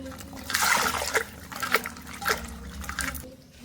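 Shallots, garlic and green chillies washed by hand in water, close splashing and dripping with uneven swishes and trickles, moderately loud and with no talking.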